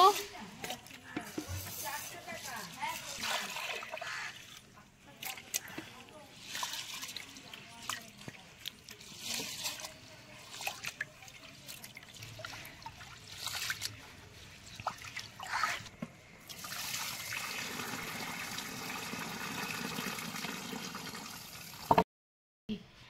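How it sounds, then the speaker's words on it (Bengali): Rice being rinsed by hand in water, with sloshing, trickling and dripping sounds running steadily at close range for most of the stretch, varying in loudness, before a brief silence near the end. "এবার আমি এই চালটিকে ধুয়ে নেব।"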